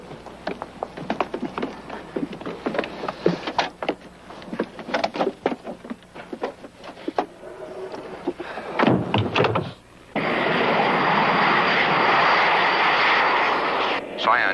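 A jet aircraft's engine roars as a steady broadband rush through the last few seconds, after a stretch of voices and clattering sounds from a drama.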